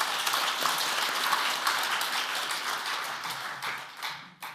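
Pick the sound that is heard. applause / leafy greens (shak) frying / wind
applause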